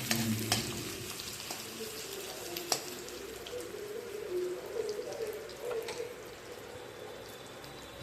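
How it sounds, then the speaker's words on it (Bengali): Onion fries in hot oil before prawns are added, a soft, low sizzle at close range with a few light stirring taps and clinks scattered through it, and no speech. "দেখো তেল গরম হয়ে গেছে, এবার আমি পেঁয়াজ ছেড়ে দিলাম।"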